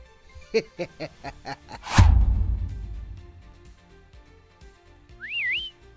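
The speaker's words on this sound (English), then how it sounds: "Craven let out a high-pitched whistle" A sharp, high-pitched whistle swoops up and down briefly near the end, following a heavy crash-like hit and a run of rhythmic tones earlier in the scene.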